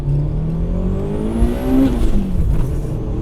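A 1991 Mitsubishi Eclipse GSX making about 450 wheel horsepower revs hard, close and loud, with a rising engine note that shifts near the top of the rev range, then pulls again.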